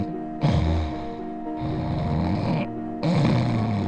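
A sleeping person snores in three long, loud, rasping breaths, each lasting about a second with short quiet gaps between, close and alone with no talk.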